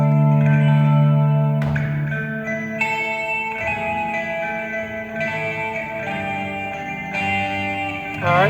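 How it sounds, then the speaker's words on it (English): Electric guitar rings out during a soundcheck before an Easter church service: sustained chords heavy with effects, echo and reverb, changing every second or so, loud and full with no talking. "let's go electric guitar, please."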